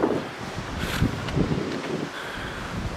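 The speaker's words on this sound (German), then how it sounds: "Auf der Brücke ist windig." Strong wind on a bridge buffets the microphone in steady gusty roars, with low rumbling bursts and rushing noise filling the whole clip.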